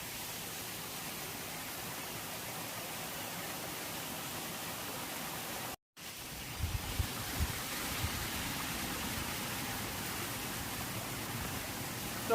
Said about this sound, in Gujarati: તમે જોઈ શકો છો ઉપરથી જે ધોધ પડી રહ્યો છે એ ખુણિયા મહાદેવ ધોધ તરીકે ઓળખાય છે